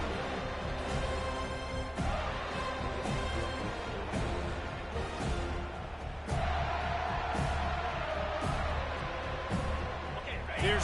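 Steady stadium crowd roar from an NCAA college football video game near the two-minute warning on a big third down, a continuous wash of noise with occasional swells, running under commentary throughout.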